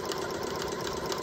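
A sewing machine stitches a corded pillow made from curtain fabric, running as a steady, close, even mechanical whir with a quick rhythmic chatter and no pauses over a short stretch.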